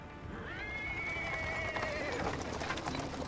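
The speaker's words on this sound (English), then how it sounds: "he's interrupted by the sound of wheels rolling on the paving stones. A cart drawn by a sad little horse appears from around the corner." A horse pulling a cart over paving stones in the video game Pathfinder: Wrath of the Righteous gives a long, fairly faint whinny over a steady background of hoof clopping and rolling noise.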